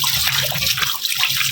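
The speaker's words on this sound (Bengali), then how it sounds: "আঙ্গুরগুলি ধুয়ে নিচ্ছি সুন্দর করে" Grapes are washed under running tap water, a close, steady splashing stream of water.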